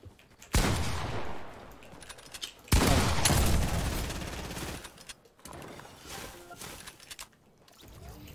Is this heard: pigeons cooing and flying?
no